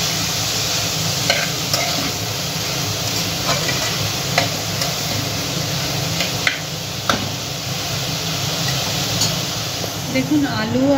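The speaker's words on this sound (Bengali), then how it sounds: "আলু আর মোচাটা আমি 4-5 মিনিট এরকম ধরে ভাজার পর" Potatoes and banana flower fry in a pan, giving a steady close sizzle broken by the scrape and tick of stirring, while a voice talks over the cooking.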